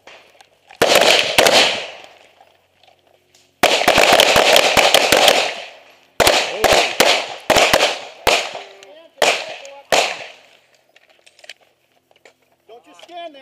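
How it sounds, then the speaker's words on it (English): Gunfire from several shooters at a move-and-shoot drill: loud, rapid bursts of shots in dense volleys separated by short pauses, with a voice calling out briefly between strings of fire. "Move and shoot."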